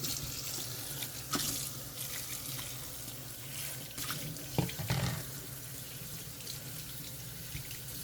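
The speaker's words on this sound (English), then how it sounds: "when you're washing mushroom, make sure you wash them one at a time to get out all the black stuff from it" A kitchen tap runs steadily while mushrooms are washed one at a time beneath it, a soft continuous stream with occasional splashes and handling noises, close and fairly quiet, no talking.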